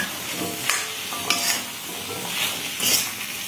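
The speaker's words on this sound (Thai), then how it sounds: "จากนั้นก็จะใส่ฟักทอง แล้วก็จะคนให้เข้ากันค่ะ" Pumpkin being stirred into freshly made curry paste in a pan, with a utensil scraping and sizzling in a steady frying hiss, louder scrapes recurring every second or so.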